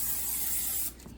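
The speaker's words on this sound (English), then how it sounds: "spray it with a little bit of cooking spray so they don't stick" Cooking spray hisses steadily into a heated 6-quart New Wave air fryer drawer in one close, continuous burst about a second long, then cuts off.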